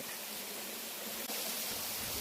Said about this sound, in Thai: ก็คือน้ำไหลทางน้ำไหลเมื่อกี้ แล้วมันก็ไหลลงมาข้างล่าง